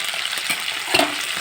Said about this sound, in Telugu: ఇలా మొత్తం ఇలా ఫ్రై చేసుకోవాలండి.